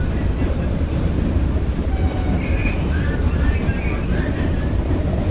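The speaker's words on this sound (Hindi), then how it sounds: "ट्रेन बहुत अच्छा, मस्त ट्रेन चल रहा है" A train in the Indian Railway video game rumbles steadily through a forest, with a loud continuous rolling clatter and faint squealing tones on top, the level holding even throughout.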